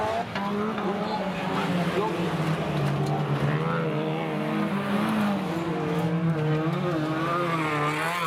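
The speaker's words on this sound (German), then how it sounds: "Und die Charlie Stöber ist auch wieder mit ihrem Auto auf der Strecke" Youth-class autocross race car on a track at Uelzen, engine revving and wavering in pitch as it drives past, with a commentator talking over it throughout.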